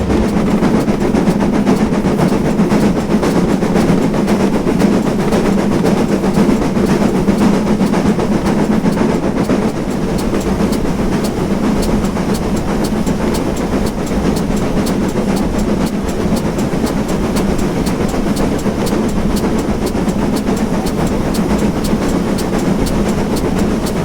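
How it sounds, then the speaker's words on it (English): GWR Saint class 29xx steam locomotive in Train Simulator climbing to Stainmore Summit at about 29 mph, a steady loud rhythmic chuffing exhaust bark over continuous rail rumble and clickety-clack, with no voices. "I noticed that the exhaust has a really good bark at 29."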